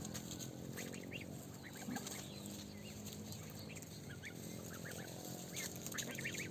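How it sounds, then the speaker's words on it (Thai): Geese grazing on grass honk and cluck among other fowl in a steady, busy flock chorus, with scattered calls over continuous low background noise. "ห่านดินกินหญ้าค่ะ"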